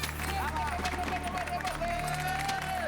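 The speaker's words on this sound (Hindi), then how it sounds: "इस पे तो घनघोर तालियां बजनी चाहिए" Group of neighbours clapping together in a residential society celebration honouring a boy, a dense, continuous patter of hands mixed with lively chatter and a voice speaking over it.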